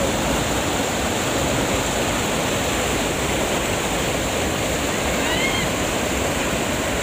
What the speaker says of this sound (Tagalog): Ito po yung tubig na nanggaling sa bagyo ni Rolly.